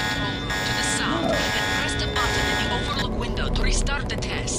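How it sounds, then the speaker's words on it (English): A harsh electronic alarm buzzer blares in the video game Deus Ex, loud and steady for the whole stretch, with game sounds layered over it. "The alarm just closed the north door."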